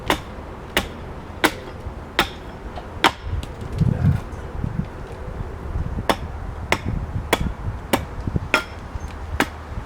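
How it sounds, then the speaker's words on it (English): A hatchet hews a piece of wood in sharp, close chops that land about once a second, crisp and loud. Softer scuffs and knocks fill the gaps between the strokes. "And now, coming more with the hatchet, more up against the piece of wood."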